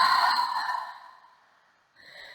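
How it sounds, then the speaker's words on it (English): A deep breath pushed out through the mouth during a grounding yoga flow, a long breathy exhale fading over about a second, followed by the start of a softer breath, close and alone. "Exhale through your mouth."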